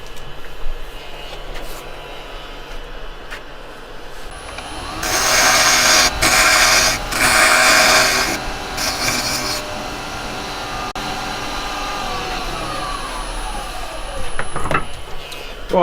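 A wood lathe whirs as a tool turns down a wooden piece's diameter with a bright, rough, hissing scrape for a few seconds, then settles back to a steady motor hum.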